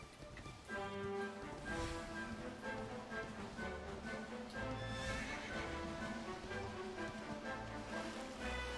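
Horse whinnies ring out over steady clip-clopping hooves in Dragon Quest 11, with game music layered throughout; loud and continuous, no talking.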